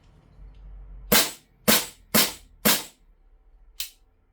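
A Double Eagle Noveske N4 gas blowback airsoft rifle fired on semi-auto: four sharp cracking shots in a quick steady rhythm, then a short pause and a fifth, quieter shot, close and otherwise quiet.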